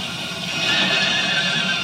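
Horses tumbling in a harness-racing pile-up on the track, a loud continuous clamor of whinnying and hoof clatter that swells midway and holds steady, with no talking.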